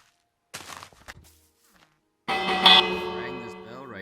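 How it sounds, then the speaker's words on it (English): A bell struck in a Minecraft survival world, rung next to an iron golem, sounding once as a loud ringing tone that sustains and fades, after a short stretch of brief taps and silence. "Rang this bell right next to the iron golem"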